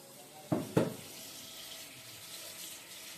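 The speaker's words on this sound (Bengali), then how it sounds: "তো চলো মটনটা ধুয়ে নিই।" Faint tap water runs steadily in a kitchen sink while mutton is washed, with two brief, sharper splashes or clatters near the start over a soft continuous hiss.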